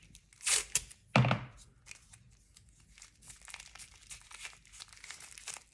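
Plastic wrap crinkling as it is twisted and taped down on a tattoo machine, two sharp close crackles early on followed by softer, scattered rustling and handling.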